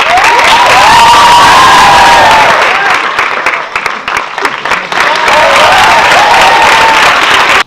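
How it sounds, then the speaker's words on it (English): A school audience of children bursts into loud applause mixed with high cheering and shouting, a dense, sustained roar that dips briefly midway before swelling again. "Gave him a big round of applause, just as these guys."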